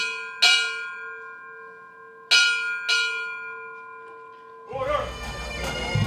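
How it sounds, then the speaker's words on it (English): A ceremonial bell rings out at a fire department memorial, three clear metallic strikes with long ringing decay, the first alone, then two close together, before a burst of louder room noise and rustle ends the passage. "we'll do the ceremonial sounding of the bell"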